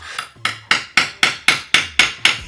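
A hammer knocks a leftover nail piece out of a wooden pallet: about eight sharp, evenly spaced strikes, each a close, loud crack that decays quickly.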